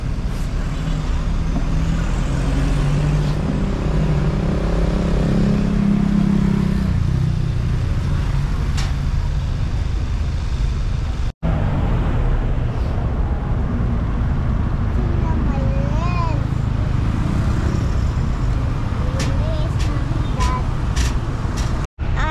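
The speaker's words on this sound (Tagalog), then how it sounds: "It's so traffic guys." Road traffic rumbles steadily, with cars and trucks passing in a continuous loud wash and a brief hiss that could be an air brake. Brief gaps interrupt the din.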